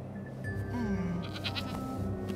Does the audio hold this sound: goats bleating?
yes